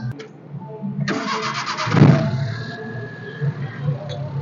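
A Maruti Omni van's engine cranks and catches, then settles into a medium idle. A short starter whir builds into a loud catch before the engine falls back to a steady, moderate rumble at close range.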